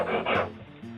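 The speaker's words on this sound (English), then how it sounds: "it's a chisel and plane sharpening tool" A chisel and plane sharpening tool rubs a blade in a woodworking shop, making a short, close rasping scrape that lasts about a second.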